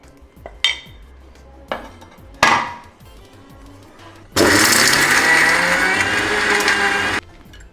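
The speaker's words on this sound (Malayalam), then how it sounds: "ആദ്യം നമ്മൾ വിനാഗിരി ഒന്നും ചേർക്കാതെ ഒന്ന് അരയ്ക്കണം." A mixer grinder grinding spice paste without vinegar for Goan-style fried fish. A few sharp knocks and clatters of the jar come first, then a loud, steady motor whir runs for about three seconds and cuts off.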